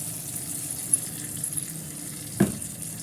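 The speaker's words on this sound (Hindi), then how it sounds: "इसके अंदर थोड़ा सा पानी ऐड करके" Water is added to a pot of chicken on the stove, a faint trickling and sizzling hiss that runs quietly throughout with a brief louder splash near the end.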